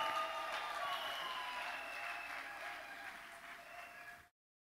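Wedding congregation applauding in a church service, a steady wash of clapping that holds evenly and fades slightly before stopping abruptly, with faint voices mixed in.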